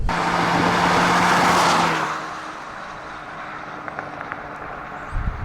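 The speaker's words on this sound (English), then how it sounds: "Now, the engine note." A 2016 Acura ILX engine revs loudly and steadily for about two seconds, then drops to a quieter idle with faint clicks and light background noise. No one speaks.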